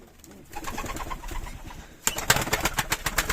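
Pigeons coo inside a coop of birds kept for a giveaway, soft repeated throaty calls close by, turning louder and denser halfway through with rhythmic overlapping coos and no talking.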